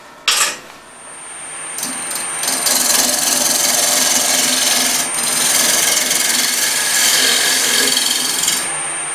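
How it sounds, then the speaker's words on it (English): Steady, harsh scraping of a turning tool cutting the outside of a spinning scrap-wood bowl on a lathe, starting with a brief knock and then running continuously and loudly, with a faint whine beneath. "I'm going to have to re-true up the outside of the bowl a little bit first"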